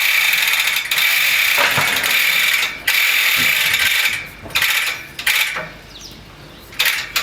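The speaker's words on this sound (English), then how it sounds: "Then we can use our winch to lift that strap up." A winch on a cattle hoof-trimming crush ratchets a support strap upward, with loud, close metallic clicking in repeated bursts separated by short pauses.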